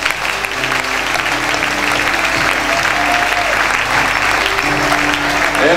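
A church congregation breaks into sustained, loud applause that fills the room steadily for several seconds, with some cheering voices mixed into the clapping.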